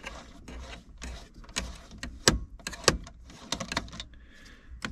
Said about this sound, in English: I'm going to grab my T30 Torx bit and remove these 2 caps